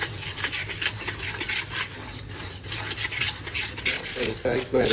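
Donut dough mixed by hand in a bowl: continuous close rubbing, squishing and scraping strokes in an irregular rhythm, moderately loud, with a voice speaking faintly at times.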